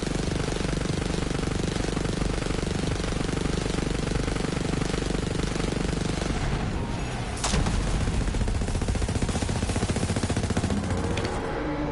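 Dense, nonstop gunfire from the Borderlands 3 video game, loud and close, with a sharp crack standing out midway through the barrage.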